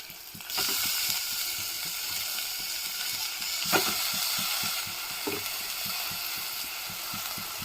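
Chopped onions sizzle softly in a pan, with a steady low frying hiss and periodic scraping clicks from stirring, fairly faint and without talk.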